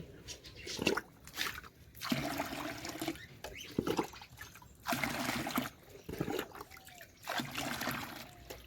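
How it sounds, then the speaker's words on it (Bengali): Water poured from a bucket into a goldfish pond, repeated splashing bursts and trickles in uneven pulses, fairly close and clear. "এই যে বালতিতে করে আমি এনেইছি ছাপা ছাপ দিয়ে দিচ্ছি"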